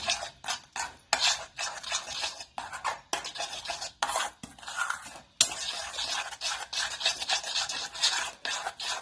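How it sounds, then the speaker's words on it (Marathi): Moong dal pizza batter stirred in a bowl, a close rhythmic run of wet scraping and rasping strokes with brief pauses between bursts, no one speaking. "आता हे बॅटर चांगलं हलवून असंच"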